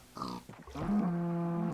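Pigs from the video game Minecraft grunt and oink, with a few short snorts followed by a longer, drawn-out squeal up close, heard alone without talk.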